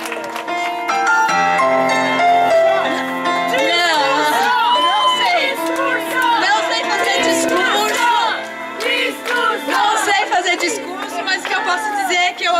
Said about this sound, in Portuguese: Palmas pra Elaine!